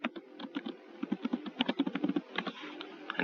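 Rapid typing on a computer keyboard while an institution name is entered during a software setup, a dense run of close, crisp key clicks with no talking.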